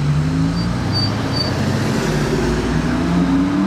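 An Audi SQ8 drives past at night amid a steady roadway rumble, its low engine drone swelling and fading with other traffic sounds around it.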